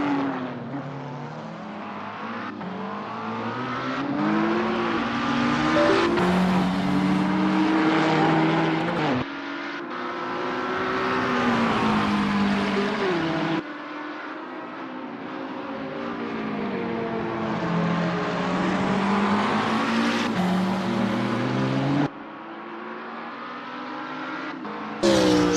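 GT3 race cars, including a McLaren 650 and a BMW Z4, lap Hockenheimring GP in a racing video game, their engines roaring loudly and steadily while rising and falling through gear changes, with several abrupt shifts as cars pass.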